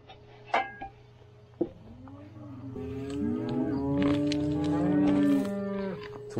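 Cattle being worked on a farm moo loudly and repeatedly in long, drawn-out calls, with a few sharp knocks and clatters near the start and steady background noise.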